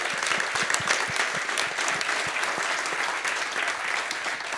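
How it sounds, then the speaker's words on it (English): Audience applause at a livestreamed open day, a steady dense clapping from a sizeable crowd that holds at an even level throughout, with no speech over it. "Big round of applause"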